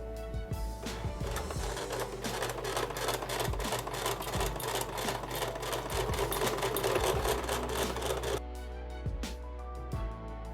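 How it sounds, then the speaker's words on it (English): A sewing machine stitches a placemat into a bag, a quiet, fast and even mechanical whirring with faint ticks that runs steadily for about eight seconds, then slows to a lighter hum. "it's just a little easier to get the sewing machine going"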